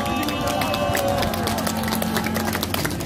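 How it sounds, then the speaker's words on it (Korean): Rally crowd outside the old South Jeolla Provincial Office in Gwangju, clapping and cheering loudly and continuously, with dense applause and shouting voices filling the whole stretch. "박수와 함성 부탁드립니다"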